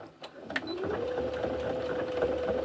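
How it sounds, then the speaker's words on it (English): A sewing machine makes a back stitch at the start of a top stitch, a few short taps then a steady even whir up close. "we're just going to back stitch to start"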